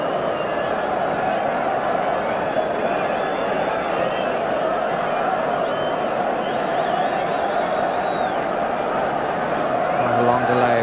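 Crowd murmur at a Scotland v England football match in a stadium during the half-time break, a steady, distant roar of many voices with a commentator talking over it.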